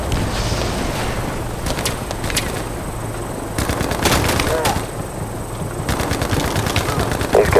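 Troops firing in Battlefield Mobile: rapid automatic bursts and single gunshots in several clusters, loud and close, with battle noise and distant shots between them, and voices talking over parts of it.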